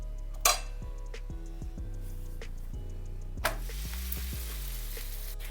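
Rice flour akki rotti cooking in oil on a pan sizzles softly and steadily, with two sharp bursts of hiss as oil is added, under faint background tones.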